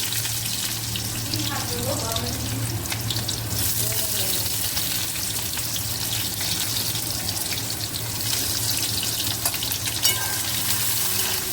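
Bay leaf tempering frying in hot oil in a home kitchen, a steady close sizzle running throughout with occasional stirring scrapes and a low background hum.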